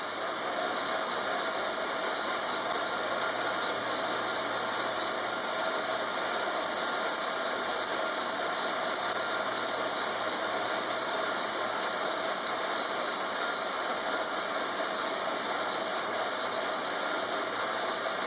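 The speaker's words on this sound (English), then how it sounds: "That is the sound of the Tacx Flux." A Tacx Flux bike trainer runs with a constant, even whirring drone and a steady high whine, unchanged and close throughout, no voices.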